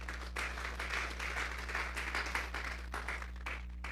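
Congregation applause during a church sermon on Psalm 31, a steady wash of many hands clapping at once, fairly faint and continuous for a few seconds with no voices over it.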